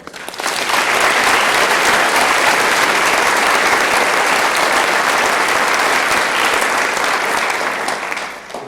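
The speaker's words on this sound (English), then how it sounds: "Could we give them a round of applause?" A large audience at an honors convocation applauds retiring faculty, loud sustained clapping that swells quickly, holds steady for several seconds and tapers at the end.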